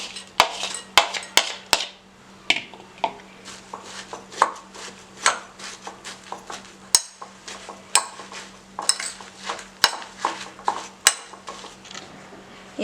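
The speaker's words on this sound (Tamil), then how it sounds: "இப்போ நம்ம இதை கலந்து விட்டாச்சு." Sweetened coconut flakes being mixed in a bowl for an Easter egg nest, with a spoon scraping and clinking repeatedly against the bowl in irregular sharp taps, close and fairly loud with no talking.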